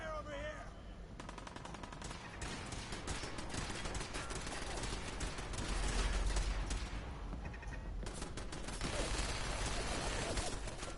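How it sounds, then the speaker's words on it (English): Rapid automatic gunfire in the video game Fallout 4 rattles almost nonstop, with dense overlapping shots and bursts that swell louder midway and near the end. "Need some cover fire over here."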